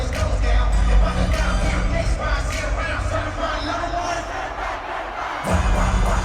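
A large crowd at a live concert roars and sings along in a continuous loud mass of voices, with the instrumentation largely absent and a brief dip near the end.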